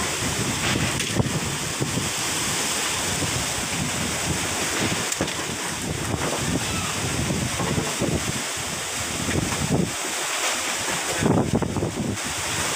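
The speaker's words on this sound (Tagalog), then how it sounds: "Sobrang lakas po ng hangin." Strong wind from Typhoon Uwan roaring steadily outdoors, with heavy buffeting and gusts against the microphone and a rushing, surf-like roar throughout.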